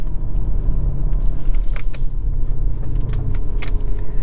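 Lamborghini Urus SUV driving on a road, a steady engine rumble and road noise with brief rising bursts that suggest quick gear shifts, close and continuous without talk.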